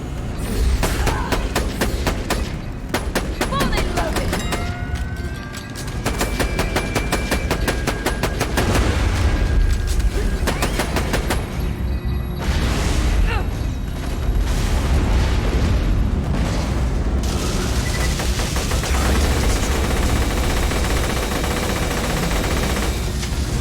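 Rapid, sustained gunfire from Borderlands: The Pre-Sequel comes as dense automatic bursts mixed with booming impacts, continuing loudly for over twenty seconds with brief pauses.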